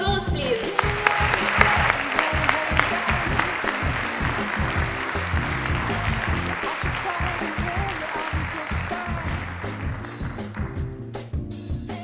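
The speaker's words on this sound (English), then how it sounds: "Can we have a round of applause, please?" An audience applauds for about twelve seconds, a dense, steady wash of clapping that starts strong and slowly thins toward the end.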